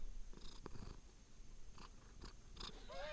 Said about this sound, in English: you also might hear some subtle purring in the background.